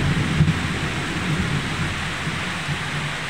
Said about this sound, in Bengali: দেখো তো কীভাবে বৃষ্টি পড়তেছে